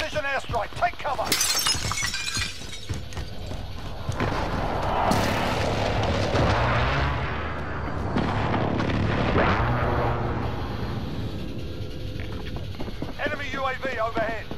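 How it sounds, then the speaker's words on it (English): Precision airstrike explosions in Call of Duty: Modern Warfare: several heavy booms with shattering debris, rumbling across a busy battlefield while voices talk over the mix. "Enemy precision airstrike. Take cover."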